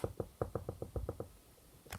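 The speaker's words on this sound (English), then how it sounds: "Bailey knocks on the head of the Cyberman." Knuckles rap on a Cyberman's metal head in a quick run of about nine close, hollow knocks with an even rhythm, then a pause and one last sharp tap.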